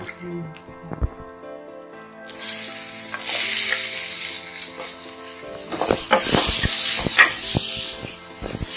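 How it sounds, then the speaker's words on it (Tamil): Tomatoes sautéing in a pan for a traditional village-style mutton kulambu, giving a loud hissing sizzle that swells midway with a few stirring knocks; a voice speaks over parts of it. "இப்போ இந்த தக்காளியும் வந்து நல்லா வதக்கணும்"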